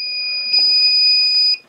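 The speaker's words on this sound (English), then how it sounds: "As soon as they beep" Loud, shrill electronic beeping from an RCBS ChargeMaster 1500 powder dispenser holds a steady high tone from start to finish, with faint clatter underneath before it cuts off.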